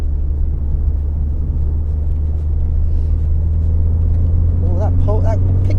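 Steady low engine drone from a Fiat Coupe fitted with a Lancia Delta turbo engine, heard from inside the car as it pulls and builds speed, with a constant loud rumble and brief voices near the end.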